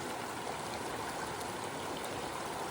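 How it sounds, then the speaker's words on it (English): Water flows steadily from a pond outlet and slips away beneath rocks, making a soft, continuous trickling rush with no voices. "this is the outlet, and look, the water just disappears under the rocks"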